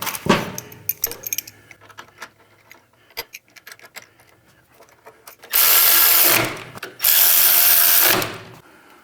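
Bolts on a Softail motorcycle's foot peg mount are tightened with hand tools: scattered clicks and ratcheting ticks, then two loud, sustained whirring bursts of a power driver, close up and without talking.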